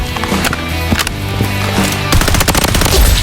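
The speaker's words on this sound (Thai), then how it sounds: "ปืนกลเบาที่พี่การใช้หลักเลยนะครับ ก็คือเป็นปืน P90" P90 submachine gun firing in the shooter game Blood Strike, rapid bursts of sharp automatic shots, loud and close, with a denser sustained burst toward the end.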